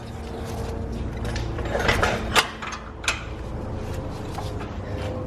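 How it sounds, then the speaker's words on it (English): A wrench loosens a 14 mm nut on the tie rod of a 2015-2020 Kia Optima, giving close metallic ratcheting clicks and a couple of sharp clanks over a low background hum. "And this is a 14 millimeter. And so you're going to loosen that."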